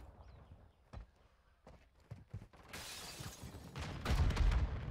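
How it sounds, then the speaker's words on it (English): Glass breaking in the Call of Duty Modern Warfare II video game: a loud shattering crash with scattered debris follows a few sharp thuds and footsteps, set against ongoing game noise with no speech. "Somebody just broke some glass."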